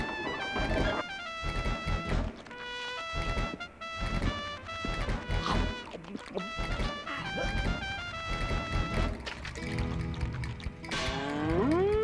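Cow mooing in the video game Conker's Bad Fur Day: repeated drawn-out moos over game music and clanking mechanical effects, ending in a rising squealing sweep.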